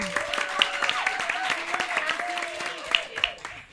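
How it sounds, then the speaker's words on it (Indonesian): Scattered applause from an audience after a band performance at a boarding-school cultural evening, moderately loud and uneven, mixed with voices and some musical tones in the background. "Beri tepuk tangan"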